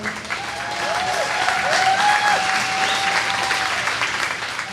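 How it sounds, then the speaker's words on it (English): Large crowd at a political gathering of activists bursts into loud, sustained applause, a dense wash of clapping that swells and holds for several seconds with scattered cheers. "it got a very large applause when it was read out loud"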